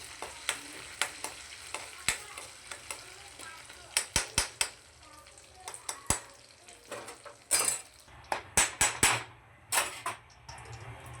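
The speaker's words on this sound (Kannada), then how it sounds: "ಸ್ವಲ್ಪ ಕಲರ್ ಚೇಂಜ್ ಆಗುತ್ತೆ ನಾನು ಸ್ವಲ್ಪ ಫ್ರೈ ಮಾಡಬೇಕಿದು." Chicken sukka masala with bay leaf frying in a pan on a low flame, a soft sizzle under frequent sharp clinks and scrapes of a spoon stirring against the pan, close up.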